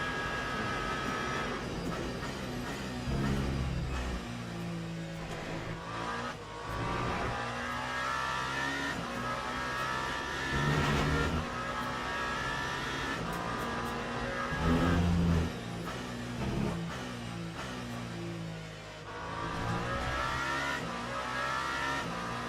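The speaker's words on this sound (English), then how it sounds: "Just a couple of corners here that I'm really not too confident with at the minute with this car." A hypercar in a racing video game laps Imola, the engine note rising and falling through repeated revving and gear changes as it brakes and accelerates through corners, continuous and fairly loud.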